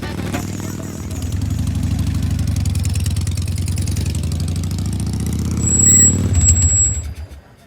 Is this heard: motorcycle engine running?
yes